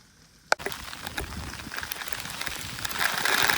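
Winter snowstorm wind blows outdoors in New Jersey, a steady rushing and hissing roar that builds louder toward the end, after a single sharp click near the start.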